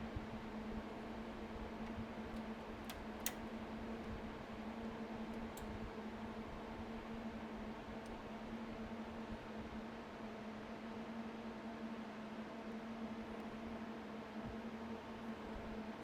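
Bitcoin mining machine running on 240 volt power, its fans giving a steady whooshing hiss with a constant electrical hum underneath, unchanging and fairly quiet, with a couple of faint clicks early on.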